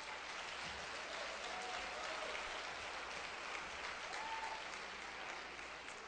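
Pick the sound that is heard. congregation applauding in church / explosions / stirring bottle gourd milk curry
congregation applauding in church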